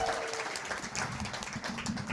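A live comedy show audience applauds a comedian, steady clapping from a crowd at moderate level for about two seconds.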